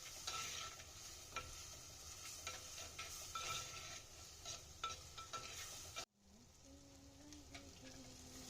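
Prawn chili curry cooks in a pan with steady stirring scrapes over a soft sizzle. After about six seconds the sound cuts to a quieter, calmer stretch.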